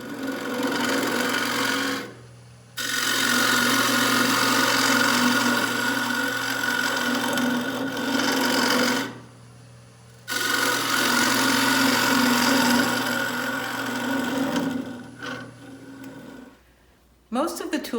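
Cedar container hollowed on a wood lathe with a homemade tool: bursts of loud scraping and cutting over the spinning lathe's hum, broken by two short pauses, with the lathe winding down at the end.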